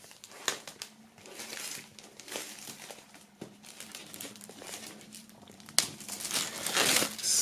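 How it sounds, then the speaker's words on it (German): Plastic shrink wrap crinkling and tearing as it is peeled off a Marsimoto Green Juice vinyl record, close, irregular crackling bursts that grow denser and louder near the end. "Aber vorab müssen wir natürlich die Folie abmachen."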